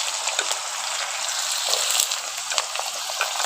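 Potatoes and aubergine frying in oil give a continuous bright sizzle with faint crackles, even and moderately loud, no talking.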